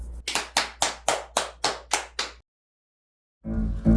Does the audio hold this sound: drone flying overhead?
no